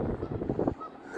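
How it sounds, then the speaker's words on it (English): Geese honking repeatedly as they fly over on a cold day by the water, calls fairly close and steady, then fading into quieter outdoor ambience near the end. "Okay, some geese flying."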